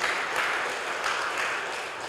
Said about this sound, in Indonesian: Ya, tepuk tangan dulu dong saudara buat Tuhan.